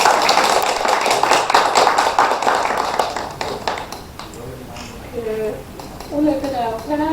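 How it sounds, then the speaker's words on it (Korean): A seated audience at a Korean tea ceremony culture event claps to welcome the lecturer, dense clapping that fades after a few seconds as a voice begins speaking. "큰 박수로 환영하겠습니다"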